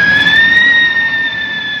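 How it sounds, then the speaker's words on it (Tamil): A shrill, steady whistling wail from a Sivakasi siren firecracker, holding two high tones that waver slightly, loud and close, over a rushing hiss. "சைரன்ங்க இது, ஒண்ணு இல்ல கத்த அவ்வளவுதான்."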